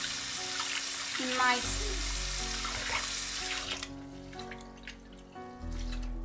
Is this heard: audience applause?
no